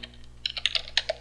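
A computer keyboard clicks as a command is typed, roughly a dozen quick, crisp keystrokes in an uneven rhythm, close and fairly soft, with no talking.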